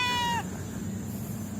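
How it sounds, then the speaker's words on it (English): A cat gives a single short meow, close and fairly clear, over a steady low background hum in a quiet, peaceful retreat setting outside Kuala Lumpur. "There's a cat over here."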